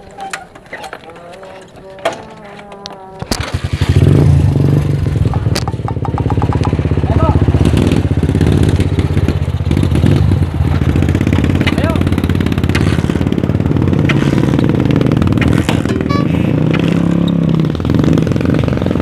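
A motorcycle engine idles with a clattering putter, then revs up into a loud, sustained roar that stays close and rough, with people talking and shouting over it.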